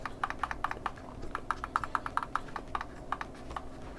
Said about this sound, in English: Forwards and back buttons are a little bit louder there on the side.